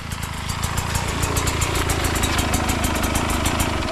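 A 2022 Sherco 250 SE Factory dirt bike engine runs steadily, loud and close, with a rough, throbbing putter and no talk.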